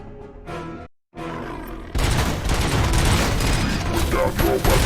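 Heavy bursts of automatic gunfire from an ED-209 attack in a RoboCop video game erupt after a brief silence, loud and continuous with booming mechanical clatter.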